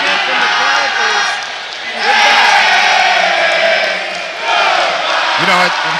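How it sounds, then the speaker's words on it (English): A crowd at a high school boys basketball playoff game chants in loud, swelling waves that rise and fall, with yells mixed in and an announcer talking over it. "Chant from the crowd is"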